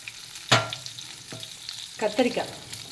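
Chilies, garlic and onion sizzle and crackle in hot oil, with a few sharp bursts of frying and stirring clatter over a low hiss.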